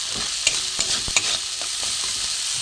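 Grated ginger and ground garam masala sizzle in a hot pan while being stirred for a vegetarian bean-chop recipe, a steady close frying hiss broken by a few sharp scraping clicks of the spatula.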